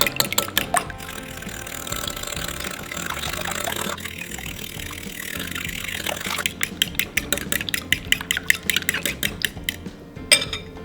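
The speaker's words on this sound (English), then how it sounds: "I'm just going to use my fork and whisk this all up until it's fully incorporated" Fork whisking wet carrot cake batter in a bowl by hand, with rapid rhythmic clinks and scraping against the bowl sides over liquid sloshing, closer and sharper toward the end.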